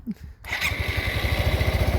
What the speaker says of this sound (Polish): odpalamy go bez sania